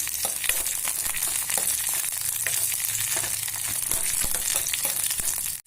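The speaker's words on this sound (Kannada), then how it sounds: "ಈಗ ಇವನ್ನ ಎಣ್ಣೆಗೆ ಹಾಕೋಣ." Broken green chillies fry in hot oil for a chutney, a steady loud sizzle and crackle with occasional stirring scrapes throughout.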